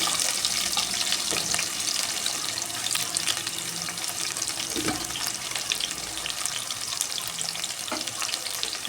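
Sliced onions, green chillies and curry leaves sauté in a hot pan for a chicken liver fry, giving a steady, close sizzle with faint stirring clicks throughout and no talking.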